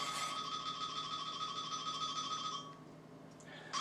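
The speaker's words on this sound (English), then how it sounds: "Somebody's obviously trying to get a hold of me on my phone." A mobile phone rings with a steady electronic tone that holds for about two and a half seconds, then cuts off, briefly resuming at the very end; nothing else competes with it.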